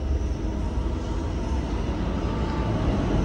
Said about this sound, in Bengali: ট্রেন মনে হয় আসছে